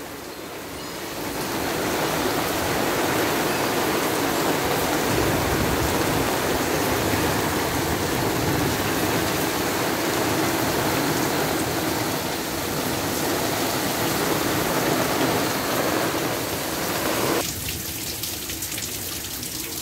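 Heavy rain pours steadily with a dense hiss and gusting wind in Rolândia, Brazil, heard from a bedroom window, close and loud, then the roar shifts near the end.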